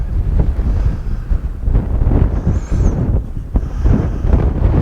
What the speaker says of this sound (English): Yeah, the wind's really got up.